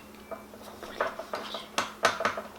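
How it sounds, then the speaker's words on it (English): Spoon stirring melted chocolate in a bowl, giving a series of close, irregular scraping and tapping strokes against the bowl over a low steady hum. "So now let's stir."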